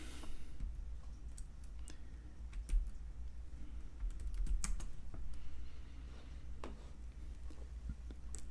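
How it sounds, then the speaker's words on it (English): Typing on a computer keyboard during a web search, with quick irregular keystrokes and clicks, close and fairly quiet over a low steady room hum, and no voices. "So I'm just gonna type airline."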